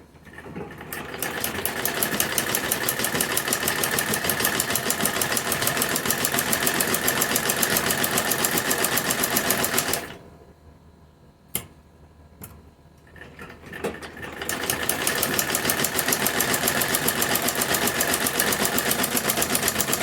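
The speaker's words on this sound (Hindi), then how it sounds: "इस तरह से कट करने के बाद हम इनकी किनारी पर इस तरह से सिलाई लगाएंगे।" A sewing machine stitches along the edges of kurti fabric pieces in a steady, loud, rapid mechanical whir. It stops briefly for a few faint clicks and then runs again.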